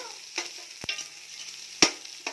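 Tomatoes going into a hot frying pan bring a faint, close sizzle punctuated by a few sharp spatula taps and scrapes, quiet between the clicks, no talking.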